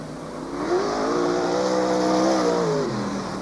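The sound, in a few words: sprintcar race cars rolling around the track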